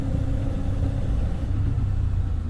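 Hero Xtreme 250R motorcycle engine running steadily on an early morning ride, a continuous low rumbling drone with a constant hum, close and fairly loud, no voices.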